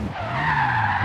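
Tires on a turbocharged Toyota Supra squeal while it drifts: one loud, continuous skid held for about a second, with no voices.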